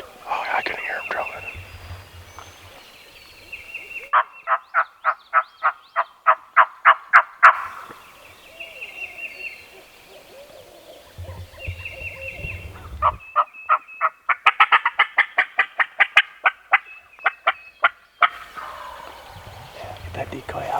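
Repeated bursts of rapid, rattling gobbling from a wild turkey in Iowa in late season, several loud calls spread across the stretch, with soft whispered voices in between.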